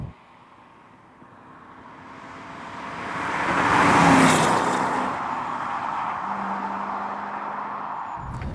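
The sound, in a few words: rare British car driving past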